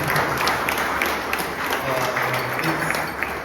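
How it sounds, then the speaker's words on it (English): A crowd at a cultural evening of Gujarati songs applauds, a loud, dense and continuous burst of clapping that holds steady throughout. "A round of applause for him, please again."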